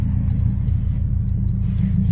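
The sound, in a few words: Subaru Impreza WRX STI engine running down on turbo timer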